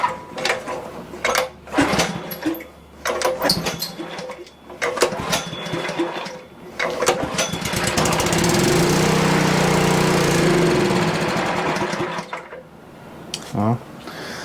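A Dewalt pressure washer engine that had sat unmoved for a while and had been making an odd noise: sputtering pulls and bursts, then about four seconds of steady roaring, winding down to scattered knocks, with some voice nearby.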